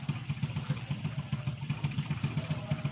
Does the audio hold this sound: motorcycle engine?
yes